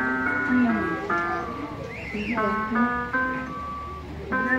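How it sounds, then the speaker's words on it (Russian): A cranked barrel organ plays a bright, tinkly tune in short melodic phrases, close by, with people talking over it. "Заводимо шарманку"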